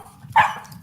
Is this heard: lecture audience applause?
no